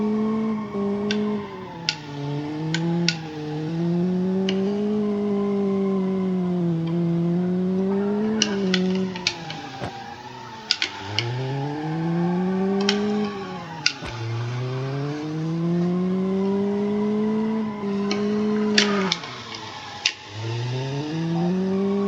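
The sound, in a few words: car drifting around corners in BeamNG video game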